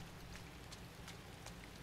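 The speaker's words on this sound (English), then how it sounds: "And it's raining." Rain falling in the bleak world of the video game Inside: a soft, continuous hiss with faint droplet patter, low and steady throughout.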